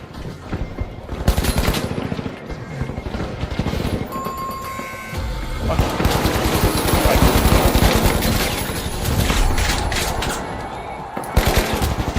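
Automatic AK rifle fire in the arena shooter The Finals, sustained bursts that repeat and pause across the stretch, loud and close, with some faint game alert tones mixed in.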